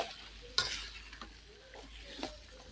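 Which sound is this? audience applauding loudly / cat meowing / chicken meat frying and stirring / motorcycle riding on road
chicken meat frying and stirring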